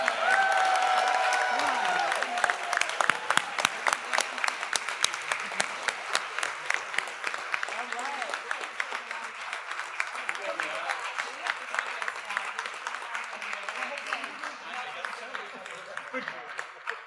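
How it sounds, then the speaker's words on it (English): A general session audience at a 2025 convention gives a long, full round of applause that starts dense and gradually thins into scattered claps, with some cheering and voices mixed in. "give one more round of applause for the class of 2025"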